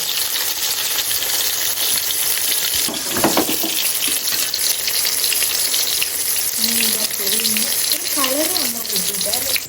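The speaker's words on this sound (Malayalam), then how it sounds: "ഇനി നമുക്ക് മീനിനെ നമുക്ക് ഇട്ട് കൊടുക്കേണ്ടതായി പതിയെ ഇവിടെ ഇരുന്ന് പൊരിയട്ടെയാണ്" Fish fries slowly in a pan for a Kerala fish fry, giving a steady dense sizzle and crackle throughout, close up, with brief clatter and a faint scraping near the end.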